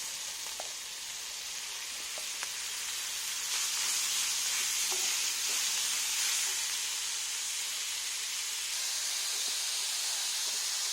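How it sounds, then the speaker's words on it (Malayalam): Ginger, garlic, onion and green chili sauté in a hot pan, a steady sizzling hiss that swells partway through, with light stirring clicks and no talk. "നമുക്കിതിലേക്ക് ഇഞ്ചി വെളുത്തുള്ളി ഇട്ട് കൊടുക്കാം. ഒന്ന് സോട്ട് ചെയ്തിട്ട് ഉടനെ തന്നെ ഉള്ളിയും പച്ചമുളകും ഇട്ട് കൊടുക്കാം"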